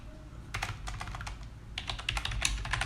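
Steady, quick keystrokes on a computer keyboard as a ChatGPT prompt is typed, clicking in short bursts with a brief pause midway, close and clear over a low room hum.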